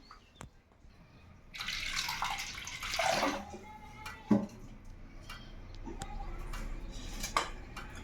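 Cold water pours briefly into a bowl of jowar flour with a splashing rush, followed by a few light clinks and drips in a quiet room.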